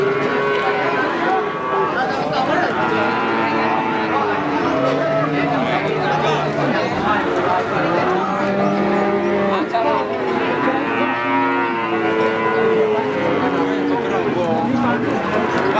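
Cattle mooing at the Margorejo Pati cattle market, with calves and breeding stock among them, steady lowing calls rising over continuous crowd chatter and market bustle throughout.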